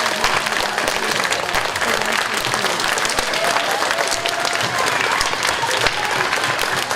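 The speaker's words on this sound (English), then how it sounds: "Please give them a big round of applause." A school assembly crowd at an elementary school claps for students, a loud, dense and continuous wash of applause that stays even from start to finish with no voices on top.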